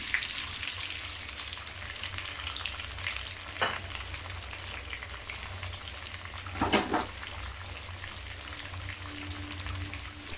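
Apple and mango pieces fry in oil with panch phoron for a pickle, giving a constant close sizzle throughout. Two brief bursts of louder crackle and stirring stand out, with no voices over the frying.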